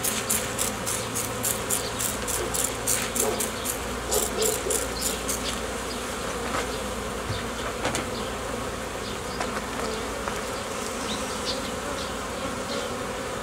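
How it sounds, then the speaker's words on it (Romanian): Honey bees buzz steadily around beehive frames as a nucleus colony is combined into a nine-frame hive, a close, continuous drone with faint tapping and handling noises now and then. "Să se retragă albinițele."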